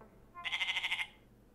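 A person imitates a goat with a short, wavering nasal bleat lasting under a second, close and fairly faint against a quiet room.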